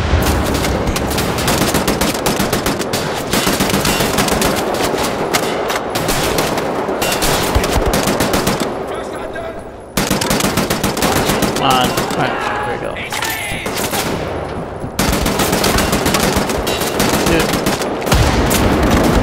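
Machine gun fire in Wolfenstein: The New Order, long loud sustained bursts of rapid gunfire with brief gaps and a short pause near the middle, under game noise and occasional voices.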